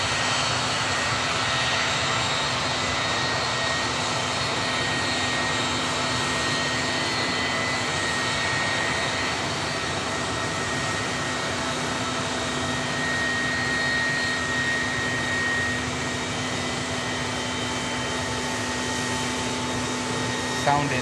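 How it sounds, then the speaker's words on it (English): An airliner with Rolls-Royce RB211 jet engines runs with a steady loud whine and roar, a constant hum over about twenty seconds with faint thin tones threading through, and no voice heard. "Sounding absolutely delightful. Rolls-Royce RB211."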